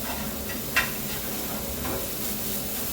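Mixed vegetables frying in a pan at home: a dense, even sizzle and hiss runs throughout at close range, with one brief sharp clink early on and no voices.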